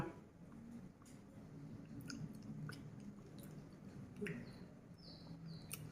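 Soft, close chewing of Monthong durian flesh, with small wet squishy bites repeating irregularly, faint birds chirping in the background and no talking.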